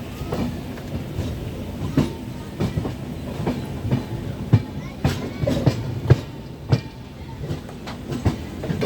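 The Tirupati–Chennai Central express, made up of ICF coaches, rolls slowly into a station platform. Wheels clack over rail joints in a steady rhythm of irregular knocks above a low rolling rumble, at moderate loudness.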